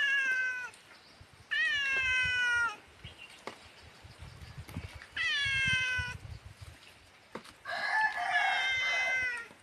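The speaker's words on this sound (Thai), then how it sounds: "แมวก็ร้องดีๆไป" A cat meows several times in drawn-out, rising calls, loud and close, mixed with rooster crowing and clucking fowl in a rainy village setting, with faint background noise between calls.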